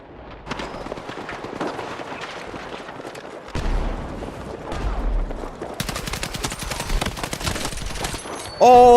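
Rapid hipfire gunfire from a triple kill in the Battlefield 6 video game, loud bursts of shots with explosive game effects layered over a busy battle mix, ending in a sharp louder burst.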